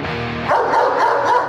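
Intense barking from a serious protection guard dog, a loud continuous run of deep, aggressive barks close to the listener with no one speaking.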